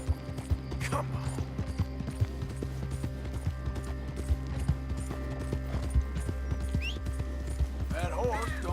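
Hoofbeats of a horse in Red Dead Redemption II, a continuous rhythmic clip-clop at close range under game ambience, with a short whinny-like cry near the end.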